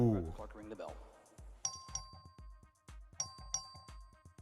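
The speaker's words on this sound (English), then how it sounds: "Clerk, ring the bell." A small electric legislative chamber bell rings in short bursts, a thin tinny tone repeating several times, with speech and room noise around it.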